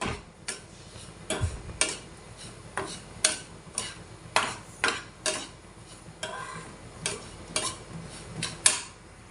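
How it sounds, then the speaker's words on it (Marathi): Poha dry roasting in a pan, stirred with repeated dry scraping strokes against the metal in an uneven rhythm, close and fairly clear with no talk. "साधारण पाच ते सात मिनटं पोहे असे भाजून घ्यायचे आहेत"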